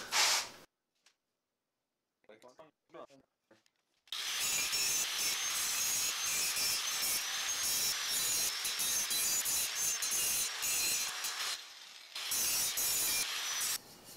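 Trimming a new piece of a triplet fatbike frame: brief handling knocks, then a long, loud, close-up grinding or cutting rasp that runs steadily for about eight seconds, breaks off briefly, and resumes.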